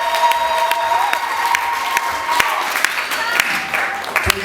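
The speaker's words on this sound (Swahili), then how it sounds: "Ongeze makofi, ongeze makofi." A church congregation at a Sunday service of EAGT Msalato claps in a burst of applause, many hands at once with some cheering, while a tonal hum sounds underneath.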